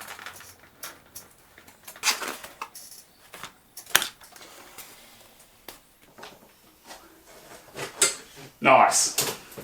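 A sharp click around the four-second mark as the movable side of a roller window blind snaps into its mounting bracket, with a louder plastic clack near the end, amid quiet handling noises and speech.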